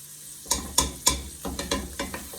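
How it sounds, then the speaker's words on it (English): Bacon being stirred in a soup pot, a spoon scraping and clattering several times over a steady sizzle of frying fat, close and distinct. "Give that a stir."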